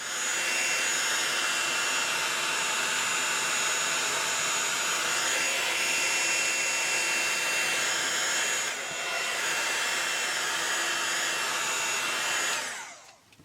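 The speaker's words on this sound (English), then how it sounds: "I'm going to quickly emboss these" A craft heat tool melting embossing powder on paper blows a loud, steady whooshing hum for over twelve seconds, like a hair dryer, then cuts off abruptly at the end.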